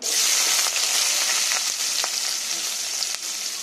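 Onions sizzle steadily in a hot pan at close range, with a dense, continuous frying hiss and a few soft stirring scrapes, no voices.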